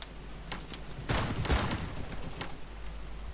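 Gunshots from the browser shooter krunker.io, with a sharp burst of crackling fire in the middle of the clip over quieter scattered shots and a low background hum.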